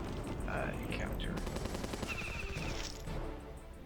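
Machine-gun turrets fire rapidly in the strategy video game Battle Nations, sounding as dense, continuous bursts of gunfire with other game effects layered under a steady, loud mix.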